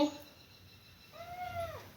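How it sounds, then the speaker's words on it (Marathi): A single kitten meow, close and clear, rising then falling in pitch over about half a second, after a short quiet pause. "हे पिल्लू मांजर का बोका समजत नाही मला"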